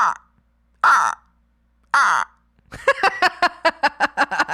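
A person imitates a crow's caw with three separate raspy, descending vocal squawks, then a fast stuttering run of short clipped caws, loud and close.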